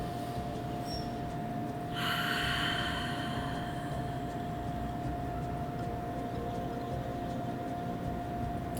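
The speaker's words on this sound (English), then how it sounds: "Take a few breaths here." During a gentle yoga stretch, a single breath rushes out near the microphone as a soft airy exhale lasting about a second, set against a steady faint hum.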